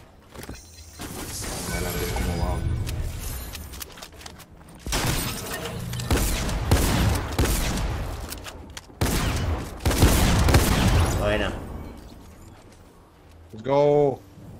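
Gunfire in a shooter video game comes in repeated loud bursts of rapid shots separated by short pauses, with people talking between and over the volleys, and a warbling electronic effect near the end.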